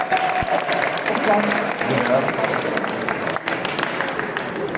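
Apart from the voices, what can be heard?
audience applause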